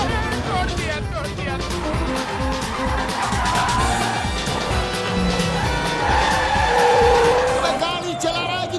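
A car driven hard with tyres skidding and squealing over steady engine noise, with impacts mixed in and voices talking over it throughout.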